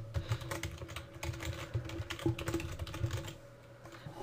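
Text is typed on a computer keyboard in fast, irregular runs of faint, close key clicks, which slow down near the end.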